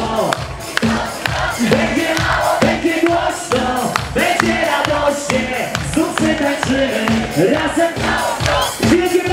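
A festival crowd at a concert during Dni Wolborza 2017 cheers and claps continuously and loudly, with rhythmic shouting and amplified music-like pulses throughout.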